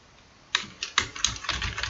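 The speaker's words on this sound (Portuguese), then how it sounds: "Vamos digitar" Keys clatter on a computer keyboard in a burst of close, quick typing, starting after a short quiet moment and continuing in irregular clicks, with no voices.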